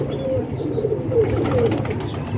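Pigeon cooing nearby, soft low throaty coos rolling on continuously at moderate volume over faint background noise.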